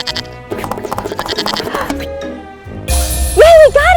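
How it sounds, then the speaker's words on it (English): A goat lets out a loud, wavering bleat close by near the end, following a stretch of other busy noises. "It's a goat!"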